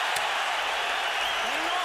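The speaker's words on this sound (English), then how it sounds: "Listen to this crowd" A boxing arena crowd roars for Canelo Alvarez during his fight with Matthew Hatton, giving a steady, dense wall of cheering and noise throughout, loud and continuous.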